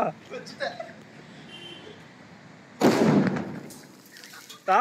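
A loud Diwali firecracker blast, a double bomb, bursts out after muffled talk, followed by a moment of noise, then people's voices return.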